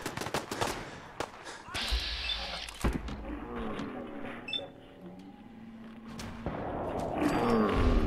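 Gunfire in Fallout 4 during a Sanctuary defence, dense bursts of automatic fire mixed with game noise and creature sounds, a steady busy din with people talking over it.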